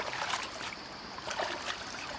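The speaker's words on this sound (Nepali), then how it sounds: "तल खोला छ हौत्र खोला" A river stream flows below a mountain footpath, giving a steady, soft rushing wash that sounds distant and faint and continues without a break.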